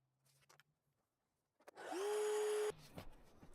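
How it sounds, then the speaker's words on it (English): A vacuum cleaner hooked up as a sawdust extractor in a woodworking setup for CCA treated timber planter boxes starts up with a whine and runs loud and steady for under a second before cutting off, with light handling noises around it. "connecting up an extractor, a vacuum cleaner, would be the way to go"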